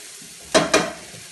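Tomatoes dropped into a hot pan for a pasta sauce, giving two quick loud sizzling bursts close up, each fading into a softer frying hiss.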